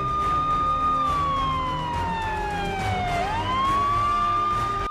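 A hooter siren wails in one long tone that slowly sinks in pitch, then swoops quickly back up, loud and near over steady background noise.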